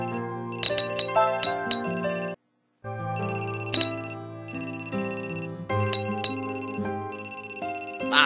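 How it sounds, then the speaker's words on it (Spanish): A telephone rings in the Amnesia: Memories visual novel, a loud, repeated electronic ringtone melody in bursts with a short silent gap between them, and no voices. "Ese estúpido teléfono sigue sonando."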